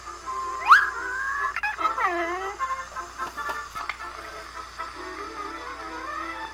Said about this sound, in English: They probably got that sound effect from actually hitting a dog.